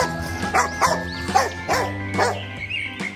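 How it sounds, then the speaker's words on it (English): A dog barks in a steady series of about six sharp woofs at close range, set over a soft musical backing with no talking. "D for dog."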